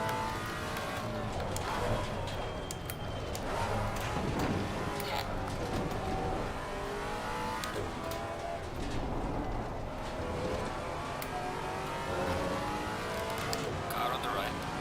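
A race car passes on the right in Assetto Corsa Competizione, a steady engine drone with rising and falling pitch as cars run close together at Oulton Park in a Maserati GT race, with talk over it.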